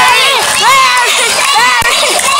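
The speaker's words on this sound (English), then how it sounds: "Now, Barry supporters, you might have to cheer louder for Barry to win." A crowd of spectators, children among them, cheers and shouts loudly and without a break as birds race at a bird show, the voices overlapping in a dense, excited wall of sound.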